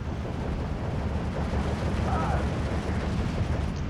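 Mortars fire in the video game Steel Division 2, with dense, rumbling battlefield booms rolling continuously under a constant low roar and no clear gaps between shots.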